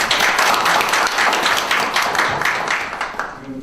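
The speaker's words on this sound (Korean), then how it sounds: "큰 박수 부탁드립니다." Loud, dense audience applause at a Korean economic democratization debate forum welcoming a National Assembly member, sustained clapping that tapers slightly toward the end.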